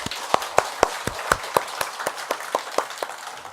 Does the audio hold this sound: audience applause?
yes